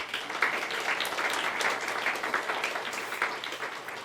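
Applause from a church congregation during a Sunday worship service, steady crowd clapping sustained for about four seconds with no talk over it.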